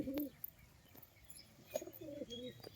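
Andhra high-flyer pigeons give a few soft, low coos, one near the start and a rolling series toward the end, fairly faint against quiet background noise.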